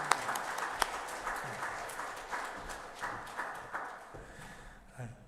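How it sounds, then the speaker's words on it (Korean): A church congregation claps in a steady patter with a few sharper claps standing out, filling a reverberant room at moderate volume. "박수로 축하해 주시기 바랍니다."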